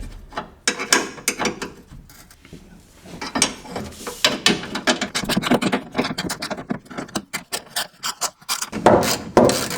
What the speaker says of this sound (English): And there are 2 more bolts under here for this washer, so we'll remove those 2 bolts.